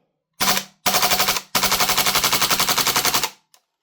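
A WellPro PPK-20 gas blowback airsoft SMG fires three loud, close bursts: two short rattles followed by a long rapid string of evenly spaced shots, then a final small click.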